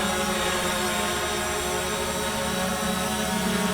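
Fimi X8 SE drone motors spinning up for auto takeoff, a loud steady multi-tone whine with layered harmonic hum, close and continuous without pause, no talking.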